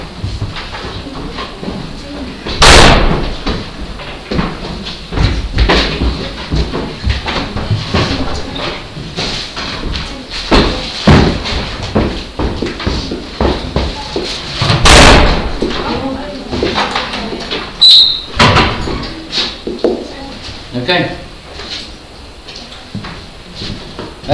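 A door slams in a classroom during a maths lesson: a few sharp, loud bangs stand out over steady talking and room noise.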